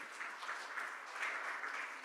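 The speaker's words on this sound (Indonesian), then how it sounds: "Kita berikan tepuk tangan untuk Tuhan kita." Steady applause from a church congregation during a Sunday service, an even, continuous patter of many hands heard at moderate distance and fairly quiet, with no voices over it.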